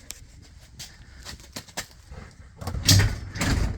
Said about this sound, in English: Then you can raise the door manually.